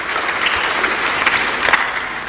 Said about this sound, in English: yes, you can clap for the Lord